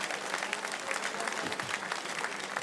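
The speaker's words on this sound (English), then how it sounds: "clap for me first" A stand-up comedy crowd claps briskly and continuously, many hands in a dense, lively patter at close range, with faint voices under the applause.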